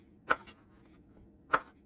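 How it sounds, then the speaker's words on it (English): A knife cutting eggplant into chunky wedge-shaped pieces on a cutting board: two crisp, close chops about a second apart, with a small secondary tap after the first, in an otherwise quiet kitchen. "I like nice chunky wedge-shaped pieces, like you see here, but you can really cut these any shape you want"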